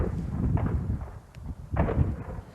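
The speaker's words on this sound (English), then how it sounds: "The Russians shoot back." Gunfire during a firefight with Russian forces in Kharkiv, Ukraine: heavy low booming bursts and rumbling reports, two loud clusters separated by a brief lull, sounding dense and somewhat distant outdoors.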